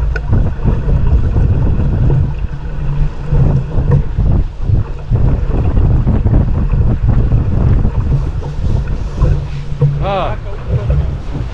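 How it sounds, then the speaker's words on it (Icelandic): Wind buffets a sailboat during a sailing race, a loud continuous rumble over the microphone with splashing water, while crew members talk and call out throughout. "Við erum að fara inn í fína vind núna"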